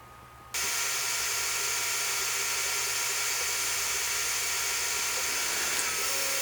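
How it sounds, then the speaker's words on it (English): A power drill bores a 1/2 inch hole through the center mark of a wooden board, starting abruptly after a brief pause and then running as a loud, steady, continuous whine to the end. "I'll drill a 1/2 inch hole on that center mark"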